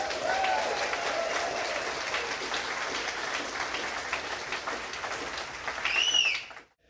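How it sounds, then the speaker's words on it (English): Audience at the Nebraska Storytelling Festival applauds steadily for several seconds, a dense patter of clapping with a few whoops near the end before it stops abruptly. "can you please give yourselves a round of applause?"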